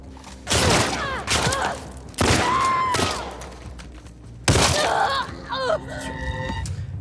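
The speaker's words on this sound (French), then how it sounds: "ça me tire dessus par là-bas en fait" Gunfire bursts in the video game The Last of Us Part II, three loud clusters of shots and impacts spaced a couple of seconds apart, with trailing thuds and game effects between them.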